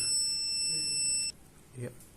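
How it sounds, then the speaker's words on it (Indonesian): An electronic buzzer on a microcontroller temperature-sensor circuit, triggered at 35 degrees, gives a steady, piercing high tone for just over a second and then cuts off, followed by a brief voice. "di sini suhunya 35 derajat, maka ya bunyi ininya. Buzzer."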